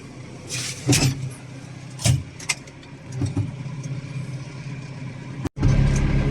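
A Massey Ferguson 148 tractor runs in a frozen yard at minus ten Celsius, with a steady engine rumble and a few louder surges and clunks as it scrapes, close and without talk.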